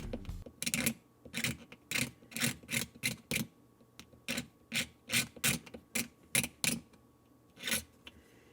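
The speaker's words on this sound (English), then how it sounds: "I will scrape along with the blade and basically carve it out." A blade scrapes cured black superglue out of a gap on a plastic Gundam model kit in a quick series of short, rhythmic rasping strokes, close and crisp with brief pauses between them.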